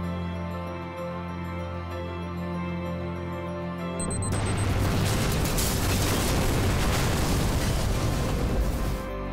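A fire explosion effect for a drama series shot hits at about four seconds with a sudden broadband boom. A dense roar holds loud and steady for several seconds before cutting off, after a quieter tonal bed of music or ambience.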